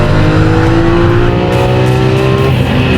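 A Lamborghini Aventador LP700-4 with its 700-horsepower rear-mounted V12 engine accelerates hard, the loud, close engine note climbing steadily in pitch across the run.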